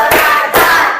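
Two crisp, close hand claps from the tepuk counting game in a classroom, evenly spaced, with room hum lingering after each.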